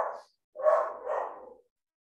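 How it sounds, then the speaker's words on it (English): A dog barks in the distance, three quick muffled barks with short gaps, fairly faint and alone against silence. "a dog barks in the distance"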